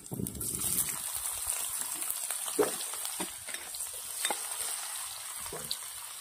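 Chopped onion sizzles in a pan with asafoetida and chilli while Maggi noodles are being made, a steady close frying hiss punctuated by stirring scrapes and clicks.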